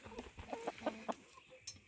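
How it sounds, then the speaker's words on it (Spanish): Loose chickens in a backyard greenhouse cluck close by in a quick series of short clucks and soft calls, with a brief higher note near the end. "las gallinas andan sueltas, se portan bien"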